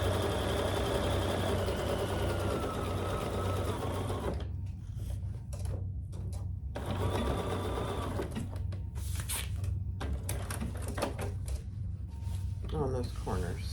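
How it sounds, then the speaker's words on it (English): A sewing machine stitches a fabric tote bag to secure basting, running steadily and close with a mechanical hum and brief pauses around the middle, while the motor's drone continues throughout. "Now I'm going to just stitch so I don't lose my basting."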